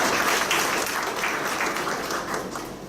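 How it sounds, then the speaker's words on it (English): An audience applauds to welcome a speaker at a charitable trust gathering, a steady wash of many hands clapping that fills the room and holds evenly throughout before easing slightly at the end. "I request you all to welcome him to the round of applause"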